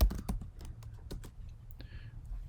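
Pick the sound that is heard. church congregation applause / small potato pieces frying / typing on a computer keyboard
typing on a computer keyboard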